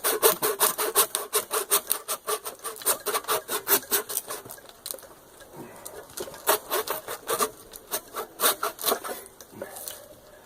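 A miter saw used as a bone saw cuts through a deer leg during home butchering, with fast repeated rasping strokes in a steady close rhythm that pause briefly midway and then resume.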